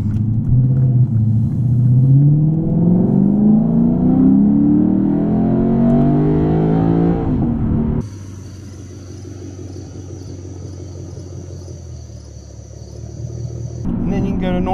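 Sports car engine in Sport Plus mode revving hard and accelerating through rising gear pulls, loud and close for about eight seconds, then dropping to a quieter cruising hum with a high steady whine before building again at the end.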